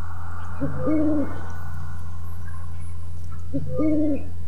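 An owl hoots in the forest of the video game Dreamscapes, two separate soft hooting calls a few seconds apart over a constant low ambient hum, with no speech.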